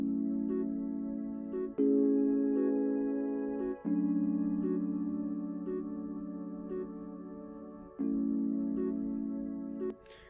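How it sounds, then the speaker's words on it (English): Dry ocarina-like woodwind flute patch from the Purity plugin, playing a soft sustained melody of long held notes over faint ticking percussion in an Amapiano track, with no effects added; quiet and steady. "the flutes, I used Purity, the ocarina woodwind sound"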